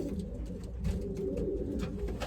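Racing pigeons cooing in a loft, soft repeated low coos overlapping in a steady murmur, close and fairly quiet, with faint rustling and no speech.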